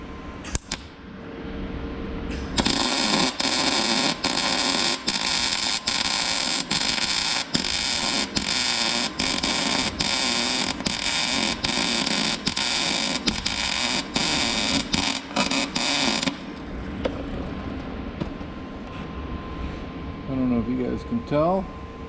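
Tack welding on a snow plow part: a loud crackling buzz of the welding arc in short repeated bursts for about fourteen seconds, then quieter hum with someone talking near the end.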